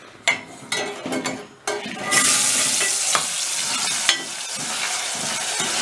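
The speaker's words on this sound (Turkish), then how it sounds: "Şimdi önce şu patatesleri bir kızartalım." Potatoes, cut in fairly large pieces, drop into a hot pan and start frying, giving a steady close hiss of sizzling oil after a few clatters and stirring knocks.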